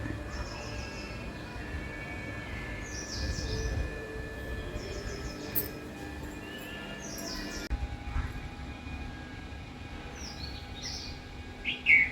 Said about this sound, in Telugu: లోపల చిట్టి పక్షులు కూడా ఉన్నాయి ఇంకా